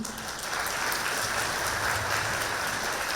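Audience applause at a school graduation ceremony, a steady, even wash of many hands clapping throughout, filling the hall without any talking.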